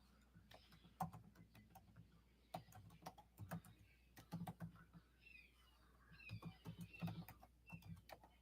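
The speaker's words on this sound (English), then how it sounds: "I'm not very good at typing." Computer keyboard typing in irregular bursts of quick clicks and taps, moderately close, with faint background sounds in between and no clear speech over it.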